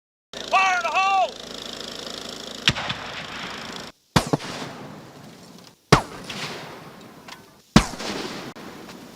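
Explosive blasts set off during ATF post-blast investigation training, several sharp booms a couple of seconds apart after a brief warbling tone, each cut short with silence between.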